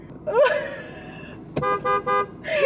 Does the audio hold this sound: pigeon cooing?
no